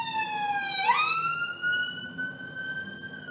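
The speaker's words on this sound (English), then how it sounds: "And there goes an ambulance," A wailing emergency siren, its pitch dropping sharply about a second in as the ambulance passes. The tone then holds steady and loud against traffic rumble, with no talk over it.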